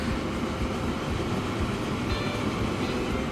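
A cargo train running in the video game Transport Fever 2, a steady continuous rumbling roll with a faint high whine, even and unbroken throughout with no talking.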